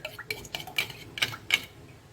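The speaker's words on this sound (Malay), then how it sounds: "Tak perlu pakai mixer, pukul dengan sudu pun boleh lah ya." Spoon clinking and scraping against a bowl while beating cake batter by hand for an ant-nest cake, a few quick sharp strikes in an uneven rhythm, close and moderately loud, with no talking.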